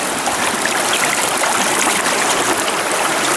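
Fast-flowing river stream rushing over rocks, a loud, steady broadband wash of water close by with no pauses and no voices.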